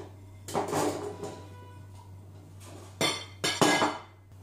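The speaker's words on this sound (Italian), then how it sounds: "Poi andiamo a mettere le verdure nel cestello e inseriamo il cestello all'interno del boccale." Vegetable-filled steamer basket set into the jug of a Monsieur Cuisine kitchen machine, a few close metallic clinks and clatters in separate bursts over a steady low hum.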